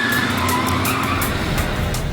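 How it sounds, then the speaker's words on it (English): A reddish Mercury car speeds off with loud, continuous tire screeching and engine roar, close and sustained with no voices. "Seconds later, a reddish Mercury speeds away."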